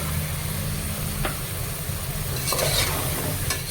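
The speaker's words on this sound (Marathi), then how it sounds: "याला छान परतून घेऊ" Cauliflower, beans, carrots, peas and potato sauté in a pan with a close, continuous sizzle and scraping stirs of a spatula, no voices.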